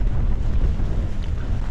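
Strong wind buffeting at a wild camp on Hallin Fell, a loud continuous low roar and rumble with no pauses and no talking.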